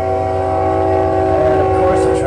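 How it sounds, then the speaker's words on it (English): A train passing close by, its horn sounding as a loud, steady sustained tone over a rumbling rail noise, with no one talking. "And of course the train's going to pass at this exact moment."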